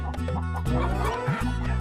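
A hen clucks in a Hindi television period drama set in a royal court, a steady run of close, loud throaty clucks that fills the whole stretch without pause.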